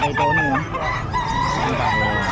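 A Sweater breed gamefowl rooster crows loud and close in one long, full call that fills the moment, with voices faintly in the background.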